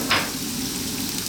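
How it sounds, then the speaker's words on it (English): Onions and garlic frying in a pan, a soft steady sizzle with a brief louder hiss at the start, faint and alone. "With that we're going to put the onions, quite a lot of onions."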